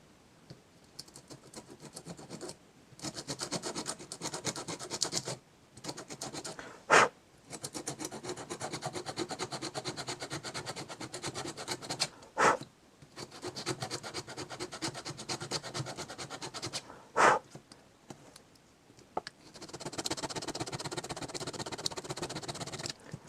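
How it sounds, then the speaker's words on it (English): A flat-bladed screwdriver scrapes the contacts of a Makita 18V LXT battery clean, giving a faint, steady rasping scrape that runs in long strokes broken by short pauses and a few sharper clicks. "Let's use a flat bladed screwdriver."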